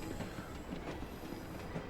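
In Assassin's Creed Syndicate, a train rumbles along with a continuous rolling clatter and faint wheel squeal, low in level and steady across the short stretch.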